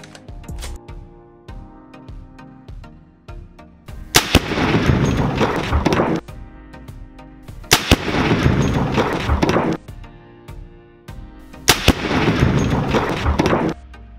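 An AR rifle fires in a played-back recording: three loud, sharp shots, each followed by a few seconds of rumbling echo, spaced about four seconds apart, with faint clicks and hum between them.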